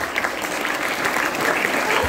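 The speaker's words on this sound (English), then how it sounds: "Please join me in giving them a big round of applause." Sustained audience applause at a school inter-house quiz competition, a dense, steady wash of clapping from a crowd that holds at an even level throughout without voices.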